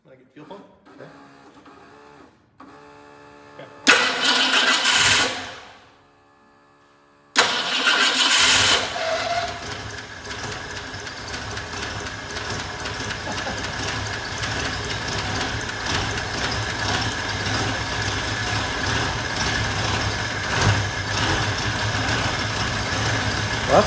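A heavy-duty vintage bus engine is bumped over, then cranks and catches, settling into a steady, loud, close idle that runs on continuously after a brief pause.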